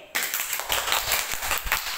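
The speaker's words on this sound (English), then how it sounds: "Let's give Aljun a wonderful clap" A group of Grade 3 children in a classroom clapping together in a quick burst of steady, fairly loud claps that carry on for a couple of seconds.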